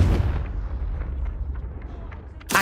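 A Confringo spell blast in the video game Hogwarts Legacy goes off as a deep, loud booming explosion at the start, then rumbles and decays, with a second sharp burst right at the end.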